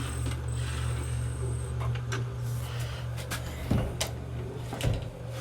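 A Roomba 675 robot vacuum is lifted and turned by hand, giving close clicks, knocks and mechanical rattles over a steady low motor hum, with two sharper bumps near the end.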